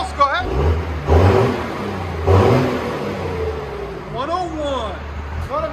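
A 1997 Dodge Ram 2500 with a 5.9L turbodiesel and straight-pipe exhaust revs in several heavy, close bursts, each swelling and falling back to a rough idle, with a brief whooshing rise near the end.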